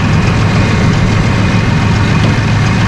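A 2017 Mahindra 5570 utility tractor with a 70 horsepower engine running while driving, a loud, close, steady low diesel rumble with no break.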